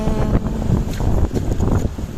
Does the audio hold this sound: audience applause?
no